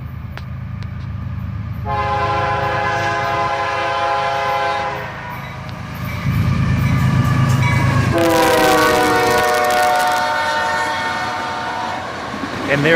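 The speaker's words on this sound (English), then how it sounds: "A CSX autorack train with two locomotives on the front" A CSX autorack freight train with two locomotives passing close at speed, with a loud blaring horn, heavy rumbling engines and clattering rail cars.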